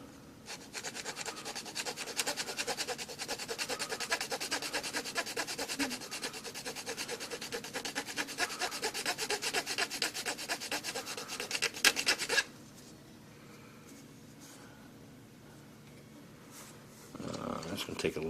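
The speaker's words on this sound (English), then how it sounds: "I'll take my flat file here, and I'll just, where they stick up right there a little bit, I'll just follow that down even with the trim" A flat file rasps steadily across metal trim in rapid back-and-forth strokes, close and fairly loud, for about twelve seconds before stopping, then resuming briefly at the end.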